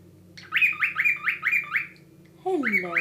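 A cockatiel whistles a quick run of bright rising notes, pauses, then whistles again, close and clear over a quiet room.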